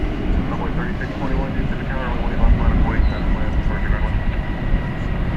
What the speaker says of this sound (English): That would be an Airbus A320. It's going to Monterrey,